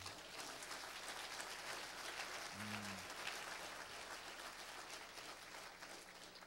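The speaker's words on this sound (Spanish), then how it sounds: "¿Cuántos aplauden el nombre del Eterno?" Congregation in a church applauding steadily, a dense, even wash of clapping that stays faint and distant throughout.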